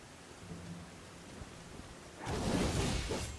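Rain falls in the Elden Ring DLC game world, a soft steady hiss that swells suddenly into a louder rolling rumble of thunder and heavier downpour near the end.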